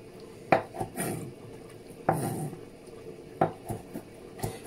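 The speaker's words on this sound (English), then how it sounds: "Just going to divide the kanda into the 3 dishes." Kanda, a Sierra Leonean dish, is portioned into three dishes with utensils: irregular clinks and scrapes of metal against pots and bowls, close and moderately loud, with soft stirring and rubbing between the sharper knocks.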